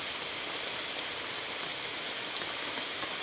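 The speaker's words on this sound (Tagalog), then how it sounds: "Itong ulan, ayan, umulan din, oh, sa wakas." Rain falls with a strong wind in a soft, steady, even hiss. It sounds fairly quiet and uniform, with no voices over it.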